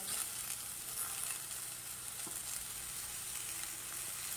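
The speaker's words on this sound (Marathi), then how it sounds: "तर कांदा थोडा भाजत आला की लगेच आपण टोमॅटो टाकूया" Onions frying in a pan as tomatoes go in, giving a soft, steady, even sizzle throughout with no voices.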